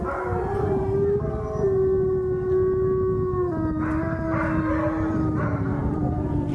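Wolf dogs at a sanctuary in Alberta, Canada howl together in long, steady, overlapping tones, several voices layered at close to moderate distance with no talk.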